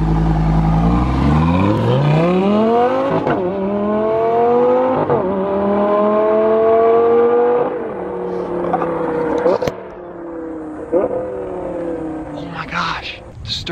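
Lamborghini with a 5.0-liter engine in Corsa mode revving and accelerating hard, a loud rising engine roar climbing through several gear shifts with brief dips between, then settling as voices talk over it at the end.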